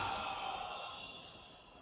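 A long, breathy exhale during a guided breathing exercise, soft and close, fading steadily over a couple of seconds with no talking.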